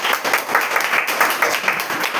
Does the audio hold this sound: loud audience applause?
yes